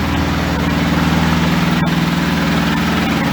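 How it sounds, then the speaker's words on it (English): A cold Land Rover Series 2a LWB engine idles loudly on the choke at fast idle close by, its fast, even throb running without a break. "that's on the choke fast idle"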